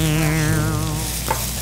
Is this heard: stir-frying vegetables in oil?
yes